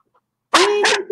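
A dog gives a single loud, close double-pulsed bark after a moment of silence, sharp and voiced, heard indoors.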